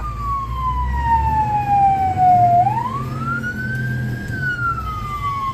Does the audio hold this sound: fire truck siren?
yes